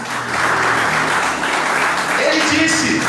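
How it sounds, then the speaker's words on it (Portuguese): A church congregation claps steadily and fairly loudly, a dense wash of applause with voices mixed in underneath. "Só quem crê diz amém e aplauda o nome do Senhor Jesus"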